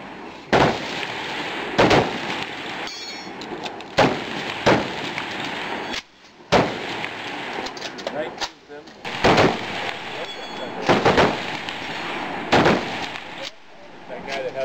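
Rifle shots at a shooting match, a series of loud, evenly spaced cracks from an M1 Garand with reloading noises between them, over a noisy outdoor background and nearby voices.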